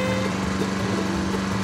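A lawnmower engine runs steadily and loud at close range, a constant droning hum with no break across the short stretch and no voices.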